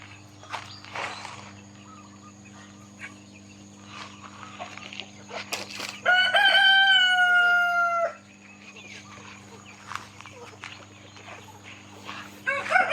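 A rooster crows loudly for about two seconds, surrounded by faint clucking, scattered short calls and a steady insect hum.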